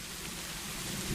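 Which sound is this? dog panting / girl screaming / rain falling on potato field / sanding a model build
rain falling on potato field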